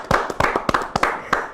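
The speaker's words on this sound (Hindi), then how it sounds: "बात पे ताली नहीं बजाएंगे?" A small studio group on a Hindi morning show gives a short burst of clapping, about eight separate, uneven hand claps spaced over a second and a half, close and fairly loud with no talk.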